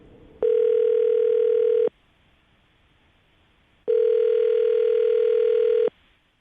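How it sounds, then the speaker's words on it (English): Telephone ringback tone heard through a phone line while an outgoing call connects: two long, steady electronic rings separated by a pause of silence, clear and loud with no voices. "I'm going to dial the phone number right now, get him on the phone"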